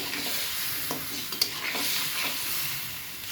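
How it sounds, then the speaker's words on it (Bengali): Eggplant frying in hot oil with a splash of water, a steady broad sizzle with a few soft stirring scrapes and one brief sharp crackle, close and alone. "এখন আমি একটু জল দিয়ে দেবো যাতে বেগুনটা সুন্দর করে ভাজাও হয়ে যায় অথচ তেলটাও পুড়ে না যায়"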